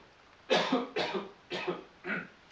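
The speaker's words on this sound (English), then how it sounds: "Getting a bit of a cough." Four separate dry coughs, evenly spaced about half a second apart, fairly close and moderately loud.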